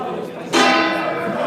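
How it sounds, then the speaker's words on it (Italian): A boxing gong opens the first round at a youth regional tournament in Padova, struck once with a sharp ringing onset that sustains loudly through the end amid crowd and speech. "andare ad ascoltare il gong che andrà ad aprire la prima ripresa"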